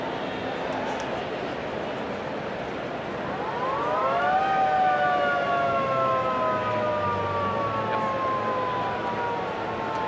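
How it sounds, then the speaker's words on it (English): A siren rises and holds a long wailing tone at moderate distance, sounding over a noisy stadium crowd at a men's rugby sevens match in Dubai. "Siren sounds in the background."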